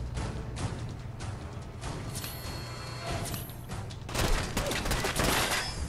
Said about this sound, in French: Il me tire dessus des deux côtés